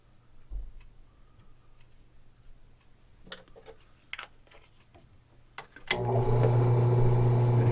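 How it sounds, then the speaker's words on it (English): A 4-pin roll crimper on 12ga buckshot shotgun shells: a few soft clicks and taps of setup, then a loud, steady whirring drone of crimping that starts abruptly and continues to the end. "our shells are loaded up and ready to be roll crimped"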